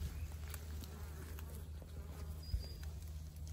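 A swarm of honey bees hangs clustered outdoors, giving off a faint, steady, distant buzzing over low background rumble.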